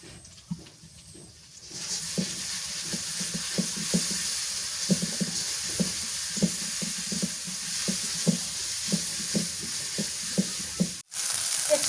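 Cumin paste sizzles steadily in hot oil in a pan, cooked on a village clay stove; a continuous bright crackle runs throughout with repeated stirring scrapes in a loose rhythm, close and moderately loud, with no talking.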